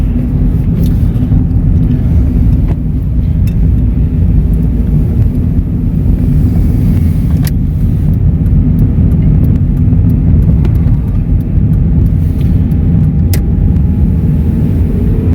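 The 1.6 engine of a 1998 Vauxhall Astra Mk4 runs steadily on the move, a constant low rumble with road noise and faint occasional clicks, loud and unbroken with no talking.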